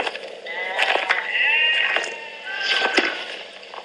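About thirty sheep rest on hot ground beside a shepherd, several bleating in overlapping, wavering calls, nearby and moderately loud, with short pauses between bursts.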